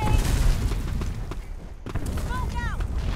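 Grenade blast in the online shooter Black Squad, a loud, heavy boom with rumbling low-end debris that fills the clip, briefly dips, then continues under excited talking from players.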